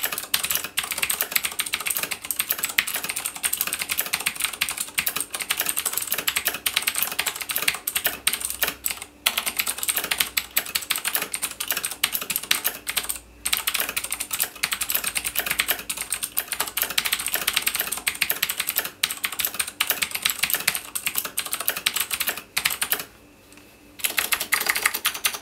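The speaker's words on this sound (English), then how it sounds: "compare it to the Razer Black Widow Gen 1 using Cherry MX Blue switches" Typing on a Razer BlackWidow Gen 1 mechanical keyboard with Cherry MX Blue switches: continuous loud, sharp clicky keystrokes at a fast, steady pace, close to the microphone, with only a couple of brief pauses.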